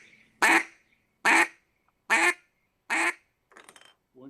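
Four short, loud quacks blown on a single reed duck power call, each note clipped off sharply with even pauses between them, followed by a couple of softer, raspier bursts at the end. No voices.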